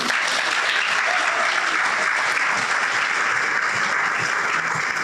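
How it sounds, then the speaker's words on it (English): Audience at a Pride luncheon applauds steadily and loudly throughout, a dense wash of many hands clapping at once with no pause and no talk over it. "So give yourselves a big round of applause."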